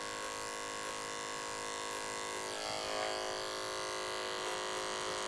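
An electric hair clipper buzzes steadily while it trims hair around the ear during a men's undercut with a disconnected side part. The hum stays close and continuous, and no one talks.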